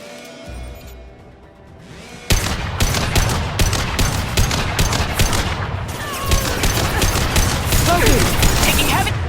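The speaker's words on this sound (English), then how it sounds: "Taking heavy fire!" Heavy, sustained gunfire from a Mass Effect 2 firefight: rapid repeated shots and crackling volleys that start abruptly and keep going, with voices shouting over the battle.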